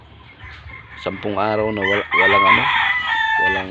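Chickens cluck and a rooster crows nearby, loud and close, with someone talking over the birds.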